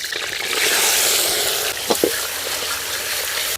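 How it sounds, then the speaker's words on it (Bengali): Mutton pieces being lightly fried in a pan for a biryani give a steady, fairly loud broadband sizzle throughout, with a couple of brief clinks or stirring knocks near the middle. "খাসির মাংসগুলো হালকা ভাজা ভাজা করে নেব"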